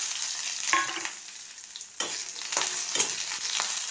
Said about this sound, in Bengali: এবার দিয়ে দিলাম বেগুনটা।